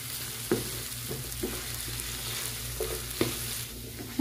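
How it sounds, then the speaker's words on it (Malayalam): Chili powder is stirred into a fishless curry in a hot pan, giving a soft continuous sizzle with periodic scraping knocks of a spoon against the vessel. "നമ്മൾ നന്നായിട്ട് മിക്സ് ചെയ്ത് കൊടുക്കാം"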